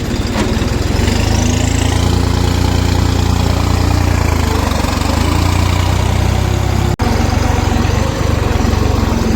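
A tractor engine idles steadily in a queue at a sugar mill, a loud, continuous low rumble that holds throughout with one brief dropout near the end.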